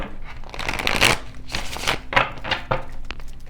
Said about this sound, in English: Let me get one more shuffle in for group number 2.